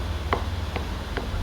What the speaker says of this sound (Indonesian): setelah dipotong-potong akan saya cincang seperti di video